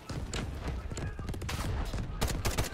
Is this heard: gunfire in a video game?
yes